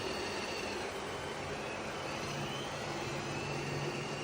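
A robot vacuum and mop combo runs with a steady, quiet, even whir and broadband hum throughout, close by and unbroken, with no talking over it.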